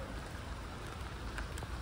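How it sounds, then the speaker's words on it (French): Rain falls outdoors at an animal refuge, a faint, steady hiss of drops with no clear individual patter and no voices. "Ah, les autres, ils se sont mis à l'abri parce qu'il pleut."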